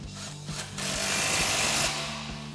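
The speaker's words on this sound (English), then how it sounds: "Then we'll tighten it back down with our 19 mil socket." A 19 mm socket on a power tool tightens a bolt on a 2024 4WD Toyota Tacoma front suspension during a leveling kit install, giving a brief loud mechanical whir with low hum that rises and then fades, with no talking.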